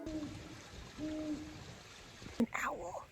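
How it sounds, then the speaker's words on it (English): An owl hoots in the woods along a hiking trail, two soft low hoots spaced about a second apart against faint trickling water, followed by a brief clatter and a short burst of other sound. "An owl."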